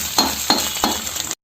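An egg frying in hot oil in a kadhai: a loud, steady hissing sizzle marked by three metallic clinks, then cutting off abruptly.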